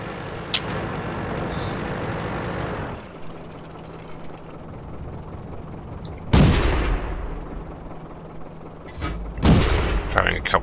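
M3 Stuart light tank firing in World of Tanks: two sharp cannon blasts, one at mid-clip and one near the end, each with a rumbling decay over steady engine drone.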